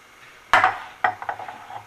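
Besan mixture being stirred with sugar syrup in a pan for Indian fudge: two sharp scraping clatters against the pan followed by softer, rhythmic mixing strokes, close and alone.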